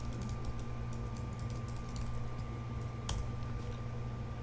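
Light, rapid keystrokes tapping on a computer keyboard while logging in to webmail, faint clicks scattered over a steady background hum.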